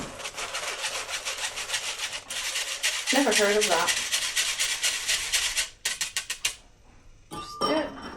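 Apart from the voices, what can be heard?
whisking Sacher torte batter with a whisk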